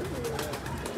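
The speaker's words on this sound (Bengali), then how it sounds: "যে 3 নাম্বার কবুতর, এই মাকড়া কবুতর আমার" A pigeon from a loft of racing pigeons gives one short, soft coo, fairly faint against a quiet background.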